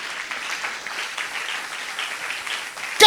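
A church congregation applauding the Lord: dense, sustained crowd clapping that stays steady and full for about three seconds, with a louder burst at the very end.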